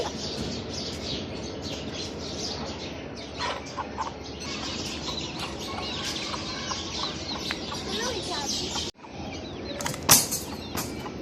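Hens clucking and calling in a backyard coop, a steady scratchy bustle of fowl sounds close by, with a brief sharp squawk near the end after a short break.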